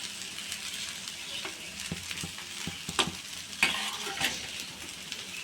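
Fried avalakki (poha) with coriander is stirred in a pan, giving a soft continuous sizzle broken by scraping clicks of a spoon against the pan, with a few sharper knocks near the middle.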